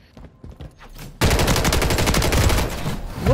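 Rapid bursts of first-person shooter gunfire erupt after a quieter stretch of scattered shots, then run loud and continuous through the rest of the moment.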